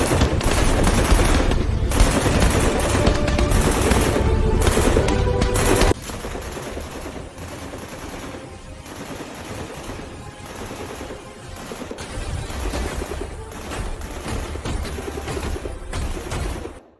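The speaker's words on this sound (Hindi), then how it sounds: "फायर शॉट्स आपकी राइट साइड, रेंज 800 मीटर।" Dense bursts of gunfire, rapid machine-gun style volleys, fill a battle scene from an AI-generated film, loud and continuous at first, then a quieter stretch of scattered shots before the firing builds again.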